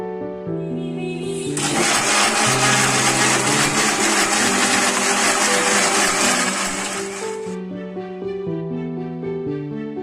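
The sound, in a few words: blender blending dates and milk into milkshake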